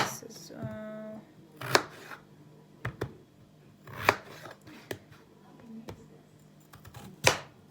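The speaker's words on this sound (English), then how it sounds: "just chop these as well, just like that" Kitchen knife chopping ingredients on a board while preparing a healthy chicken roast meal, a few sharp separate strikes spaced irregularly and fairly close, with a voice talking between the cuts.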